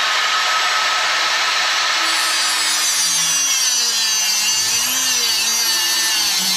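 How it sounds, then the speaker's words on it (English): Eye bolts being cut with a small Harbor Freight tool produce a steady, loud, close-up grinding hiss that holds for several seconds with no talking. "Use a little simple Harbor Freight tool to do that job. And I'll cut this off."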